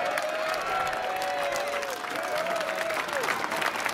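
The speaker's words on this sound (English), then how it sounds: "everyone give a round of applause for Jared" Crowd applause at an outdoor march rally, continuous dense clapping at moderate distance, with some whistles and faint cheering across the whole stretch.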